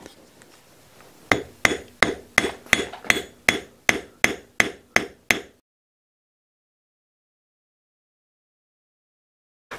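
A riveting hammer textures a sterling silver pendant plane, striking about a dozen sharp, evenly spaced metallic taps close up, then stopping and leaving silence.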